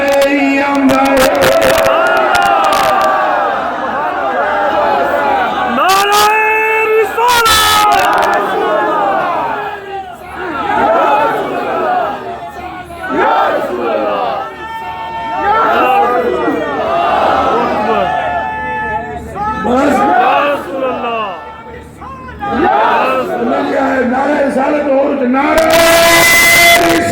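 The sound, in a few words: crowd chanting religious slogans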